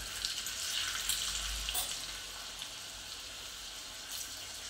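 Garlic and Kashmiri red chili sizzle in hot oil for a tadka, a steady bright crackle that holds close and fairly loud throughout with small bursts, no one talking.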